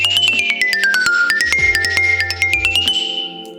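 Wooden Balter 8AR mallets, about 25 years old, strike a bright percussion instrument in a rapid run of sharp clicking attacks with ringing tones sliding down then back up, close and fairly loud, no talking.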